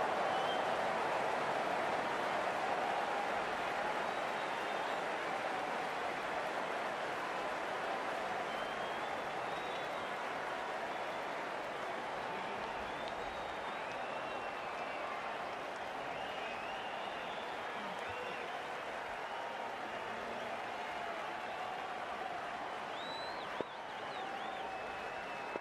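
Crowd applause in the Cricket 19 video game rises as a broad, steady wash of clapping and cheering that holds for the whole stretch at moderate level, with a brief knock near the end.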